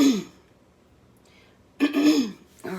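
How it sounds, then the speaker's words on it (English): A throat-clearing cough near the start, then a pause, followed by a louder harsh cough burst, with another beginning at the end. "He's down there coughing his head off"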